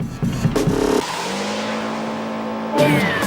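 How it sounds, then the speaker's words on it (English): Racer in the video game Jak X braking and reversing: a steady engine drone with a whining pitch shift, bracketed by brief revs and a tire screech, close and loud. "Holding down the brake will stop your racer and put it into reverse."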